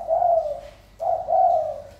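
Two soft, rolling coos from spotted doves (tekukur), each phrase swelling and fading, heard close and alone with a short pause between them.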